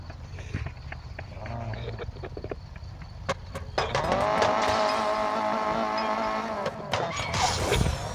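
A Scirocco R launching off the line in the racing game Need for Speed No Limits: scattered clicks, then an engine surges into a loud sustained roar with a sharp shift partway, going on to the end.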